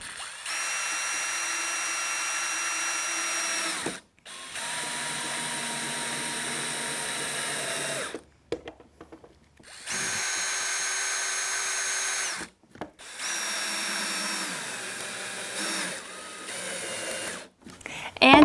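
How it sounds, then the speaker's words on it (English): A power drill whirs in several long bursts driving self-drilling trim head screws into wood, stopping and starting with short pauses, close and loud, ending in a brief clunk. "these trim head screws that I'm using, are that they are self-drilling"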